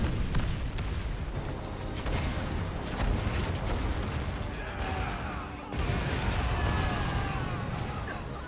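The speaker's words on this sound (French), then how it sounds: "Ah, les canons, ils tirent maintenant." Cannons fire in the video game Valkyria Chronicles 4, a dense, continuous barrage of booms and bursts with whistling shells under a loud, constant roar.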